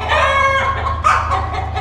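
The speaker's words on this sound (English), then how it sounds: "Every chicken has decided it's time to cluck right now, apparently." Young meat chickens in their second week cluck together in a steady, overlapping chorus, with a louder burst of clucks partway through.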